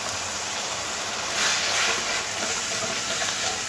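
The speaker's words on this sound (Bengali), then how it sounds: "একটু চিনি আর জল দিয়ে খুব ভালো করে মশলাটাকে কষে নেব" Ground spice masala with turmeric, chilli powder, sugar and water sautéing in a pan, a steady broad hiss and bubbling sizzle that swells briefly in the middle.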